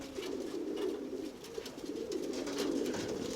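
A pigeon coos continuously in low, soft, rolling calls, steady and fairly close, with no voices.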